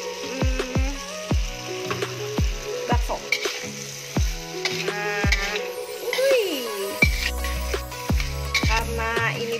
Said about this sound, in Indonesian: Masukin deh semua bahan-bahannya, brokoli, mentega,